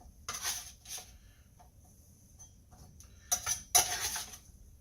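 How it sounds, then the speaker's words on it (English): A spatula flips kohlrabi chips one by one on a baking pan, making a few short, close scrapes and light clinks separated by quiet gaps, with no talk. "We're just going to flip each and every one of them."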